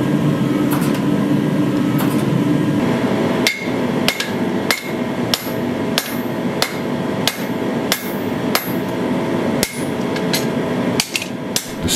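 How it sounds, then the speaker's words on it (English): Hammer blows flattening steel while forging a Damascus sword with a teardrop pattern, about a dozen sharp, ringing strikes at an irregular, fairly steady pace over a constant background roar, loud and close. "The steel gets flattened."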